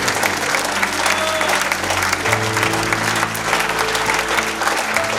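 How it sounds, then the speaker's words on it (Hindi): Church congregation at a Hindi sermon breaking into loud, sustained applause, dense clapping filling the room throughout, with a low hum underneath and occasional voices mixed in. "यदि आप सीख पा रहे हैं तो जोर से यीशु के लिए ताली बजाएं।"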